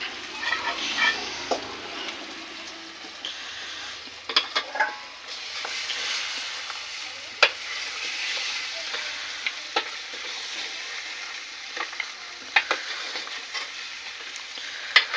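Potatoes fry and sizzle in a pot at the base of a goat paya biryani while a spoon scrapes and stirs them, a steady close sizzle broken by repeated sharp clanks of utensil against metal, with no talk.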